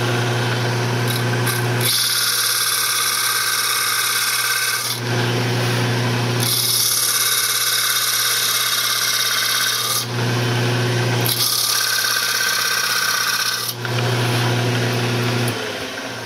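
A wood lathe turns a base for basket weaving, running at speed with a loud, steady whirring drone, broken by recurring bursts of tool scraping and rasping against the spinning wood.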